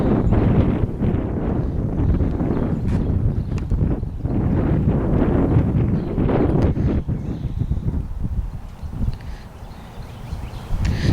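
Strong wind buffets the microphone in loud, rumbling gusts that rise and ease over several seconds, with faint rustling underneath.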